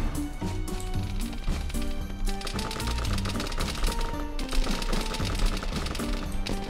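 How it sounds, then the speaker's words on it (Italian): Gunfire in the military simulation game Arma 3, with rapid clattering bursts of shots fired in dense, irregular volleys that continue almost without pause, loud and close. "Sembrano gli spari del santo."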